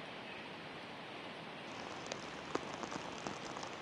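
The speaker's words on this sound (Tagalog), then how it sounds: "Emil, patuloy pa rin nararanasan ang malakas na pag-ulan dito sa Baguio City at Benguet." Heavy rain falls steadily in Baguio City, Benguet, a continuous faint wash of drops with a few sharper splashes and drips on a surface partway through.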